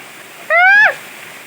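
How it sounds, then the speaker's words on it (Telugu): Water pours steadily at a waterfall near Kurnool, a constant close roar with a brief voiced shout rising over it partway through. "ఇక్కడ చూడండి వాటర్ ఎంత ఫ్లో అవుతుందో"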